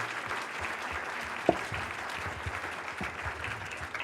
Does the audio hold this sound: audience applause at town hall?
yes